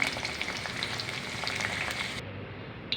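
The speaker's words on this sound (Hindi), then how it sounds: "यहाँ पे जी भिंडी हमारी फ्राई हो चुकी है" Okra (bhindi) fries in hot oil on full heat, a dense, close crackle and sizzle with scattered pops that drops away abruptly near the end, no talking.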